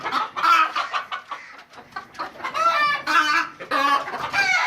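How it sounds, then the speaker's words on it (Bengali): Domestic chickens in a backyard where the hens roam during the day, clucking busily with repeated overlapping calls, close and fairly loud throughout. "এখানে আমার সবগুলো মুরগি দিয়ে যায় এবং আসে"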